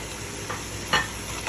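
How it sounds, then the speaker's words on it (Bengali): Chopped tomatoes stirred into chicken frying in a pan for Arabic-style chicken biryani, a constant sizzle broken by two or three brief scraping stir strokes, up close. "এখন আমি দিয়ে দিব দুটি বড় বড় টমেটো একদম ছোটো ছোটো করে ফেটে"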